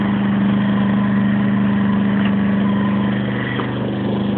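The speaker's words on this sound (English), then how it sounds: "I'm going to go over to the generator, which is running in econ mode, so it's at a lower throttle setting." A portable generator runs at a low throttle in economy mode, a steady, loud engine drone with an even low hum that holds constant from close by, with no voices.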